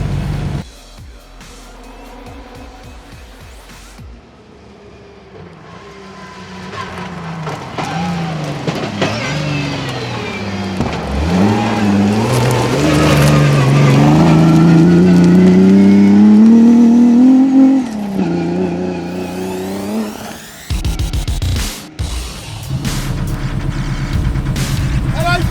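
Nissan 350Z rally car with a 3.5 litre V6, built to GSR spec, revving hard through the gears on a hill rally stage; a loud, rising engine note climbs and drops, with speech-like voices at times.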